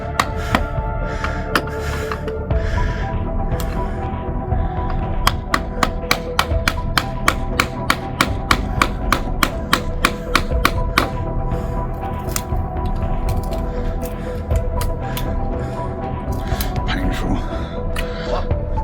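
Steel chisel struck repeatedly with a hammer to cut metal in a boatyard during a ro-ro vessel salvage, a run of sharp irregular clangs in the middle stretch over a busy noisy background, with voices around.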